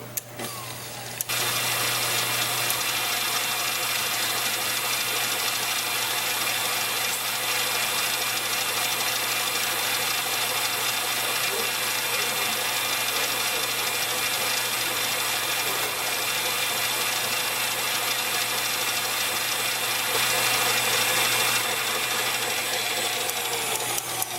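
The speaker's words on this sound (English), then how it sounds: "You're not adding anything to this, it's just whipping the cream." An electric mixer whips cream into firm, stiff peaks for three-ingredient ice cream, giving a steady, continuous motor drone with a constant low hum that runs unbroken from start to finish.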